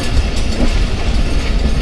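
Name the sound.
passenger train passing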